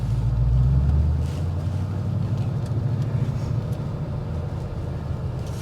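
2020 Ford Mustang V8 with a six-speed manual gearbox, already started, giving a deep steady rumble up close that eases slightly after the first second.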